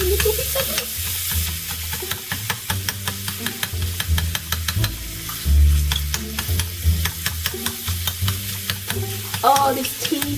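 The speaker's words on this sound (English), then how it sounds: "this teeny tiny sizzle in my teeny tiny wok" Minced meat being stirred and broken up in a tiny miniature wok, a steady close sizzle of frying with repeated scraping and stirring knocks, no talking.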